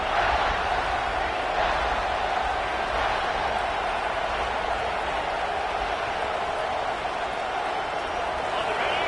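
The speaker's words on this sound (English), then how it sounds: "here comes the noise. This crowd is trying to inspire this defense to make a big red zone stop" A large college football stadium crowd roars steadily during a red zone defensive stand, a dense wall of cheering noise that stays loud and constant throughout.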